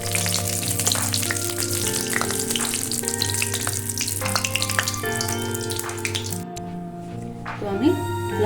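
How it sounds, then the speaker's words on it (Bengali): Dried red chillies frying in hot oil in a pan for a lentil-and-greens chorchori, a steady close sizzle that runs the whole time over a faint background hum and tones. "শুকনো লঙ্কাটা ভেজে নিতে হবে ভালো করে।"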